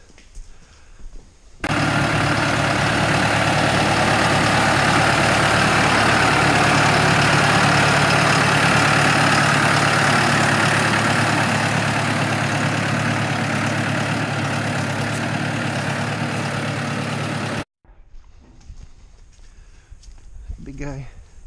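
A farm tractor engine idles loudly and steadily for about sixteen seconds during cattle feeding in muddy ground, then cuts off abruptly, leaving quieter background noise.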